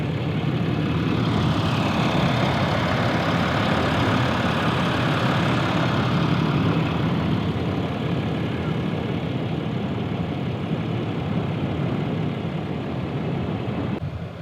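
A Cummins 6.7-liter inline-six turbo diesel in a RAM 2500 Night Edition pickup idles steadily and loudly for the whole stretch, a dense low rumble with a broad hiss over it, with no speech.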